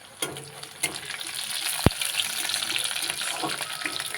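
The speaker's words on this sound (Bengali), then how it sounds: "পেঁয়াজ ভাজা হয়ে এসেছে, এবার দিয়ে দেবো কাঁচা লঙ্কা" Chopped green chillies frying with onions in a pan, stirred, giving a steady close sizzle with scraping stir sounds and one sharp clink near the middle.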